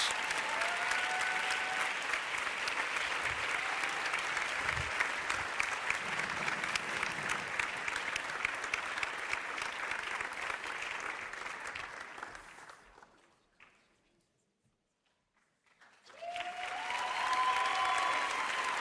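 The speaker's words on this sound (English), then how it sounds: "Please, a warm round of applause for Oksana Karpovic." Warm audience applause for a film director at the LUX Audience Award event, a full steady roar of clapping that fades to near silence around the thirteen-second mark, then swells back strongly.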